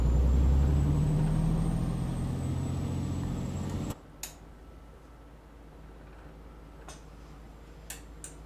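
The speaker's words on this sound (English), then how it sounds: "Deep reduction 3, it's a low gear." In American Truck Simulator, a Western Star 6900 truck in deep reduction low gear drones with a loud, steady engine rumble for about four seconds before cutting off abruptly, leaving faint scattered ticks and clicks.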